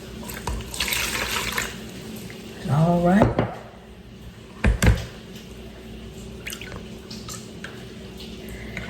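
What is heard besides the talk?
water poured into buttermilk while making butter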